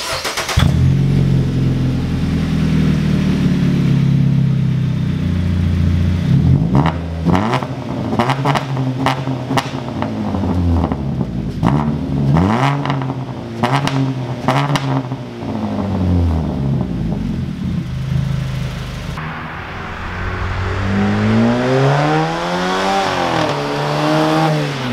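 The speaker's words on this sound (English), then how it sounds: "I do want to display my exhaust system. It is completely custom, custom tip and everything." A Jeep Renegade with a fully custom exhaust and custom tip, built by Pronto Muffler in Plano, Texas, revs repeatedly in sharp rising and falling bursts, loud and close, with a steady idle between blips and no talking.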